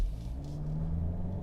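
A 2018 Hyundai Kona in sport mode launching from a stop for a 0 to 100 km/h run on a public road, giving a steady, close, low engine rumble and drone that holds throughout with no talking.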